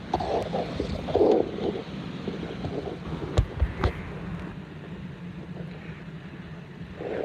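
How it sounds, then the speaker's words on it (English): Strong near-hurricane-force wind gusts in Key Largo roar and buffet the microphone in rumbling gusts, with a few sharp knocks and rattles through the blustery noise. "Yeah, very damaging winds now."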